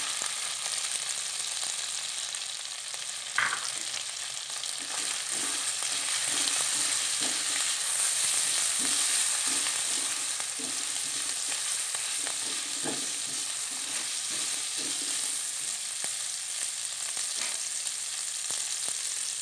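Tomatoes frying in a pan for goat tongseng give a steady, close sizzle with occasional stirring scrapes and clinks, with no speech over it.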